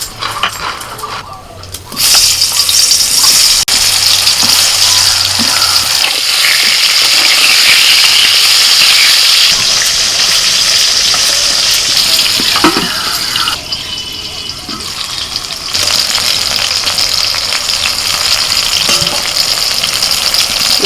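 Oil sizzles and spits steadily as salted, turmeric-coated pieces of pointed gourd fry in a pan, a continuous bright crackle with brief dips.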